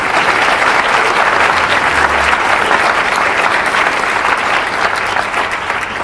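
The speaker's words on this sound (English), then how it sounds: "let's give them one more round of applause." Loud, dense applause from a crowd at the close of a debate in a legacy series, sustained evenly for the full six seconds with no speech over it.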